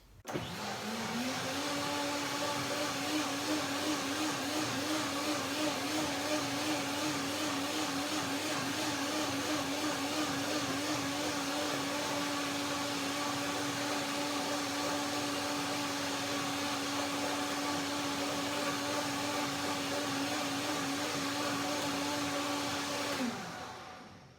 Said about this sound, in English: so I will do a second blending to break them down finally to the final texture